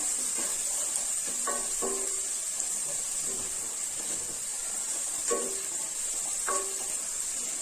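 Chopped onion frying in a pan for Malvani-style mugdal khichadi, a soft continuous sizzle and hiss with a few light clinks of a spoon against the pan, no talking.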